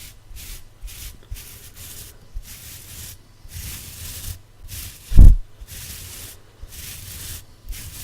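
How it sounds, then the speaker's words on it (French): A small brush rubs back and forth across a surface in steady, evenly spaced strokes: close, soft, breathy swishes repeating about once a second, with one sharper thump partway through. "Une petite brosse."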